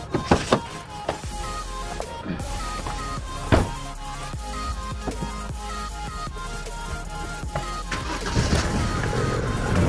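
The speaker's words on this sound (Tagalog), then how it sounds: "I-start natin ngayon ang sasakyan." A Chevrolet pickup truck engine cranks and catches, then settles into a steady running rumble with some clunks and knocks around it, recorded close by in a repair setting during diagnostic troubleshooting for a misfire.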